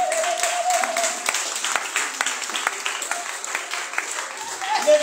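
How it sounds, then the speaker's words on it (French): A church congregation at a Sunday Mass applauds a new sponsor of the choir, a steady mid-level patter of many hands lasting several seconds, with a voice briefly speaking over it. "Il faut l'applaudir."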